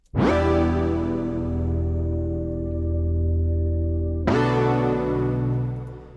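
Sustained build chords from a synth with a thick, distorted, effected tone, holding one chord then shifting to another near the end, loud and alone.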